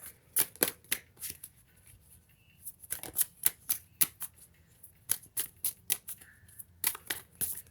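Tarot cards are shuffled for a reading in quick crisp riffling bursts and slaps, close and fairly loud, repeating in irregular clusters with short pauses between.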